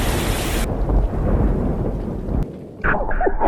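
Heavy rain pours loudly and steadily at a riverside campsite at night, a deep thunder rumble running beneath it; the downpour briefly dips before surging back with rattling splashes.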